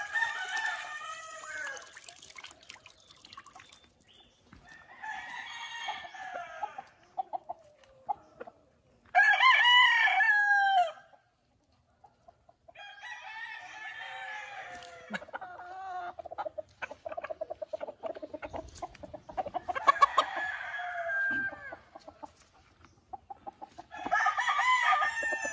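A muddy gamefowl rooster crows several times in separate loud bursts, with clucking between them, near and fairly clear against an otherwise quiet background.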